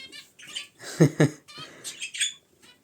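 Indian bulbuls in an indoor aviary give short, close chirps and tweets, a brief run of quick calls with a couple of sharper notes in the middle.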